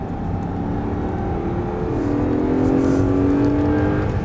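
An Audi R8 engine roars at full throttle on a circuit, pitch climbing steadily as it accelerates hard, loud and close.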